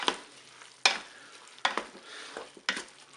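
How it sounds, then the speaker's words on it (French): Spaghetti, chicken and artichokes with lemon juice are stirred in a Cookeo pot: four distinct close scraping strokes with soft sizzling between them. "Je mélange."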